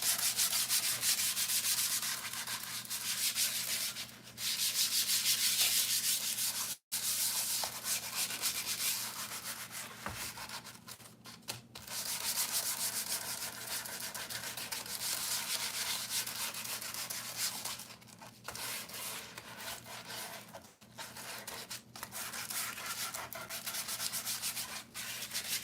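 Steady hand sanding on a guitar body, a continuous close abrasive rasp with rhythmic swells and a few brief pauses over nearly half a minute, under a low constant background hum.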